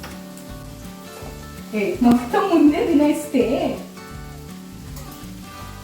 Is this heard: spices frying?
yes